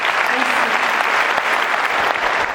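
Applause from a comedy-show audience at a French stand-up performance, a dense steady wash of many hands clapping together at full volume, sustained without a break and loud throughout.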